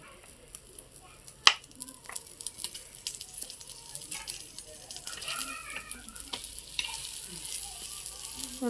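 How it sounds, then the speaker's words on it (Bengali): Egg fries quietly in a pan while being turned, with a soft, low sizzle punctuated by scattered spatula taps and one sharp clack early on, growing slightly louder toward the end. "উল্টি উল্টি উল্টিয়ে ভালো করে ভাজি।"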